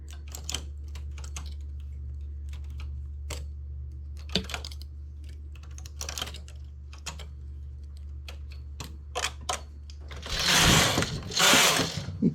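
A domestic knitting machine works cable stitches: sparse clicks and taps over a steady low hum, then two loud rushing carriage passes close together at the end.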